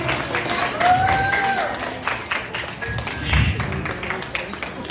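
Guests at a 60th birthday celebration in a hotel clap in scattered, uneven applause, with taps and crowd murmur mixed in and a voice heard briefly.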